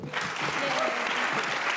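An audience applauds a panel at a university event, steady clapping of many hands filling the short stretch from start to finish without a break.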